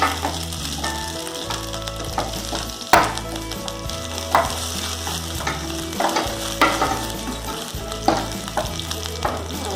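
Rava and almonds stir-frying in ghee for sweet rava laddu, a steady close sizzle with repeated scraping strokes of a spoon against the pan throughout, a few sharper knocks, no voices.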